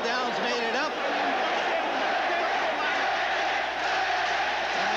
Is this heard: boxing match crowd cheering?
yes